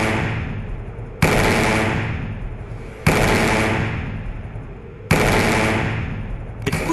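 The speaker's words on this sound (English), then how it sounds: "So this is a railgun firing a hypervelocity projectile." A railgun launches a hypervelocity projectile at about seven times the speed of sound, heard as loud, sharp blasts repeating roughly every two seconds. Each crack is followed by a long, roaring decay that carries into the next shot, with no voices.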